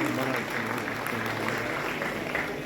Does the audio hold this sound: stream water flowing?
no